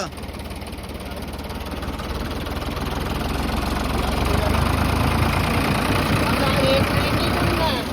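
A tractor engine labors loud and close during a tractor tug-of-war, a steady rumbling drone that swells gradually as the load builds, with voices calling out over it.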